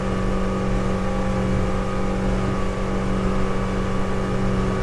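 Honda 90 outboard motor on a 2005 Hewescraft 180 SeaRunner running hard at about 6,000 RPM while trimmed up, a loud, steady, close engine drone with continuous hull and water rush throughout.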